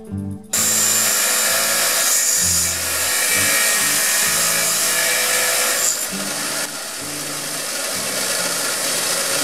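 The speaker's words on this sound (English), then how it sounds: "then come back on a wire wheel and round the edges so they're not" Steel armor gauntlet finger pieces pressed against a spinning wire wheel to round their edges, a loud continuous motor whine with a harsh scraping buzz that dips and shifts in pitch as the work piece is moved.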